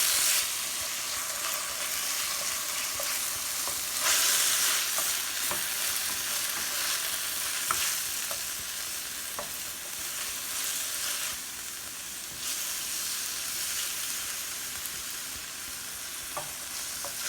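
Sofrito with piquillo peppers frying and being stirred in a pot for chicken and rice: a loud, continuous close sizzle with scraping spoon strokes running through it.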